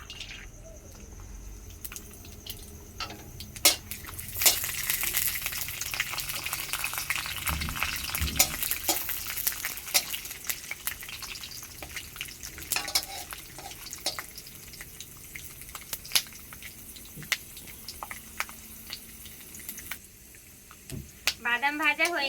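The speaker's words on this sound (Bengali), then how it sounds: "বাদামগুলো ভেজে নেব।" Peanuts fry in hot mustard oil in a wok, giving a steady crackling sizzle that lasts throughout. Scraping and rattling strokes from stirring come and go, and a few sharper clicks and taps rise above it near the end.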